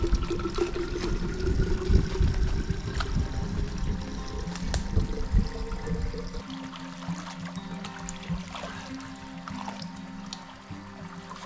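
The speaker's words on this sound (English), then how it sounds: "filtering the water, guys." Clear lake water is filtered while bikepacking, trickling and pouring steadily and close by for about six seconds before easing into a quieter, thinner dribble.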